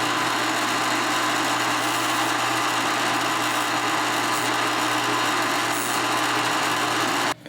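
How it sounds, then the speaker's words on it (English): A power drill bores string holes through the bridge of a Martin M-38 acoustic guitar, a steady continuous high whine held at even loudness for several seconds before cutting off abruptly at the end. "Got them all drilled, matching the original bridge"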